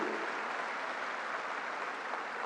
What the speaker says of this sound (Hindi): जोर से जरा ताली बजाइए राम बहादुर जी के लिए